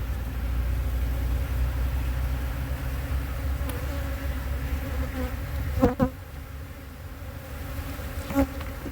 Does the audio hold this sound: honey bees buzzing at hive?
yes